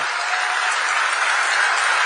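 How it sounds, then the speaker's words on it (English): A large ceremony audience in a hall applauds the arrival of a president and first lady before a World Cup draw, loud, dense and unbroken clapping that holds at one level throughout without a voice over it. "a big round of applause"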